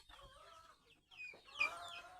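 Native village chickens cluck faintly and steadily while pecking at coarsely ground sorghum feed, with a few sharper clucks near the end and a quiet rural background.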